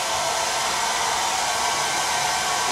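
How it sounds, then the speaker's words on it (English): A hair dryer on its lowest setting, drying paint on a rubber ducky craft, runs as a steady, loud airy whoosh that stays constant throughout, with no talking. "You want to use the lowest setting that you have."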